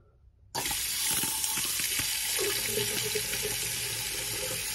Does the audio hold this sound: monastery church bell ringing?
no